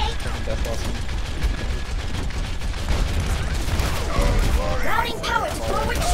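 Reaper's Death Blossom shotgun ultimate fires in a dense, continuous stream of shots amid chaotic game combat, loud and sustained, with mechanical clanks and a voice talking over it.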